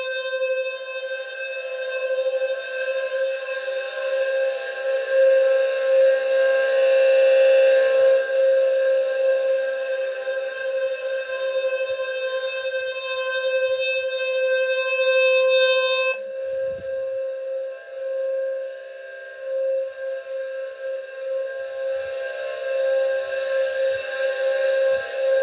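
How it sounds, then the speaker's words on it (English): A loud, sustained electronic tone with strong harmonics from low-frequency fire alarm sounders during a test drones on without talk, briefly shifting character midway before continuing at a steady level. "It was mostly from the Wheelock low frequency sounder"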